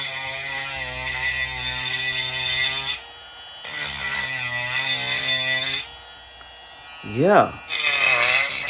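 A HARDELL cordless 6-speed rotary tool sands a piece of cedar wood, giving a steady high whine with a gritty rubbing edge in several long passes broken by short pauses, while someone speaks briefly.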